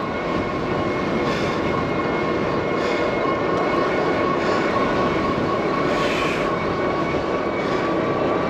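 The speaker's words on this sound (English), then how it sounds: "Wow, wind." Wind noise while riding an Aventon Aventure e-bike through a park: a loud, continuous roaring buffet with low rumble, steady throughout with no speech.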